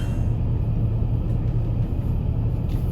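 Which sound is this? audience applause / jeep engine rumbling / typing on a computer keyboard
jeep engine rumbling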